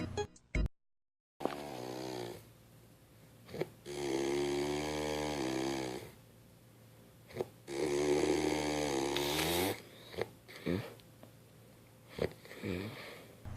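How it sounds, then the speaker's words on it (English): A person snores in long rasping, vibrating breaths, several drawn-out snores separated by short pauses and sniffs, close and fairly clear with no talk. "If you're unfamiliar to what snoring sounds like"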